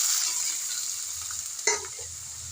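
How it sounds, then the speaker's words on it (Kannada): Dried red chillies, garlic, tamarind, onion and tomato cook together in a pan for tomato chutney, a soft steady sizzle with a single louder stirring scrape partway through, close and without talk. "ಎಲ್ಲ ಒಟ್ಟಿಗೆ ಹಾಕಿ ಚೆನ್ನಾಗಿ ಬೇಯಿಸ್ಕೊಳ್ಳೋಣ ಫ್ರೆಂಡ್ಸ್."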